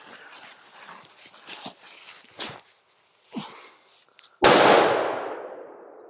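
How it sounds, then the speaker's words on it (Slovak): A small two-gram firecracker goes off in a forest: one loud, sharp bang near the end that rings out and fades slowly, after several seconds of quieter scattered knocks and rustles. "To pekne vo vzduchu buchlo"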